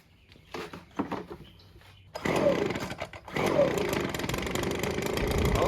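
After a few brief sputters, a small engine primed through its fuel bulb catches and settles into a steady, close, buzzing idle that pauses once before running on.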